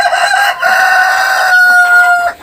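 A rooster crows loudly and close by in a farmyard among chickens, one long drawn-out call with a brief break partway through that then trails off, and no voices are heard.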